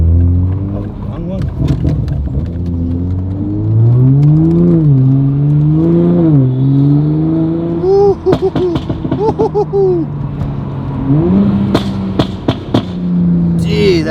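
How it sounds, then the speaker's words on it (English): A Toyota Supra with a Boost Logic exhaust, valves open, revs repeatedly up and down close by, loud and throaty, with voices heard now and then between the revs. "The exhaust sounds crazy."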